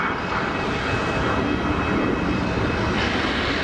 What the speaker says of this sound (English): what we've got here is a 737-800 for KLM